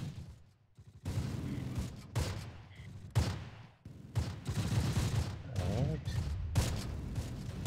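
Repeated gunfire bursts and rifle shots crackle in Close Combat, a WWII tactical video game battle at La Fiere Causeway, coming in rapid volleys across the clip with a voice talking briefly between them.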